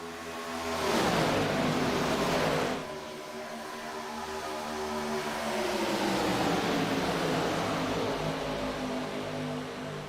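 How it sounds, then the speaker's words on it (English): Race car with a sour, rough-running engine passing on a dirt track during a Scrambler Series season opener, a loud roar swelling by early then a steadier droning engine tone lingering afterward. "One driver coming by sounding like his engine's a little sour there"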